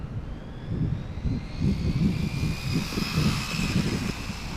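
Traxxas 4-Tec 2.0 VXL RC car on a stock 2S battery during a high-speed run, its motor giving a steady buzzing whine that rises in pitch as it speeds up, with no talking.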